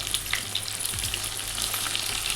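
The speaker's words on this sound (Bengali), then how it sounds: "অল্প অল্প করে আমি ভেন্ডিগুলো ভেজে নেব।" Okra frying in hot oil in a pan, a steady dense sizzle with crackling pops that continues throughout at close range.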